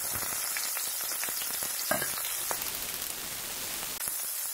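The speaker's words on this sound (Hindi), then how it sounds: "प्याज को तेल में अच्छे से तलेंगे क्योंकि प्याज नरम हो जाएगी अच्छी सी।" Onions frying in hot oil with cumin give a steady, soft sizzle and crackle, with occasional light stirring clicks and no voices.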